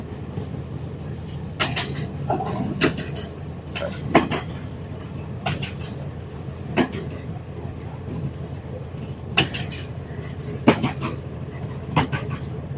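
A train running from Kaunia to Teesta, heard from the front of the engine as a steady rolling rumble with repeated sharp clanks and knocks, while someone speaks over it.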